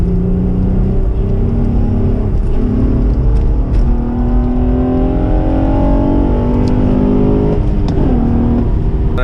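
An Acura TL AWD with a six-speed manual downshifts to third on a highway and pulls hard, its engine note rising in steady harmonic sweeps over loud, continuous road and wind roar, with no talking.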